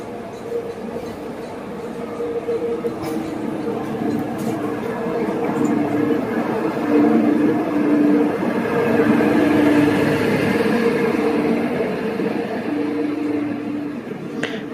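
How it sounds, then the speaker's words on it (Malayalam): A shunting locomotive for the Mangalore Express rumbles steadily at a station, its low engine drone building and holding loud over about fifteen seconds, with faint sounds of people in the background. "മാംഗ്ലൂർ എക്സ്പ്രസിന്റെ ഷണ്ടിങ് ലോക്കോയാണ് ഇത്"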